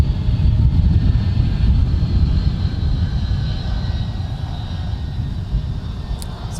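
A Delta Boeing 757 arriving from Phoenix rolls in at Minneapolis–St. Paul airport, a steady low engine rumble and roar that eases slightly over the seconds, fairly close, with no talk.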